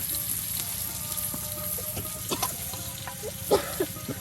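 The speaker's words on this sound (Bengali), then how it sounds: "এখন কিন্তু বাবি সুন্দর করে দেখুন মাছগুলো একদম তেলের সাথে ভেজে নিচ্ছে" Fish frying in oil in a pan, a steady broadband sizzle throughout with occasional small pops and scraping clicks, close and moderately loud, no voices.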